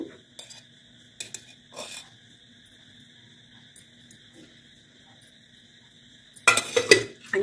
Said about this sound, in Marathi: तूप याच्यामध्ये मस्त मिक्स करून घ्यायचं